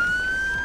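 A sustained high police car siren tone in the video game Enforcer Police blares close and loud, steady in pitch through the brief moment, with a low background hum.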